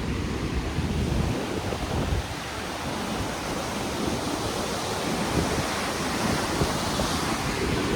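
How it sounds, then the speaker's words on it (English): Loud, powerful rushing water near Taupo, New Zealand, a steady broadband roar close by that holds its force for the whole stretch with no letup, heavy spray and churn, plus a little wind buffeting on the microphone. "You can just hear how loud and how powerful the water is."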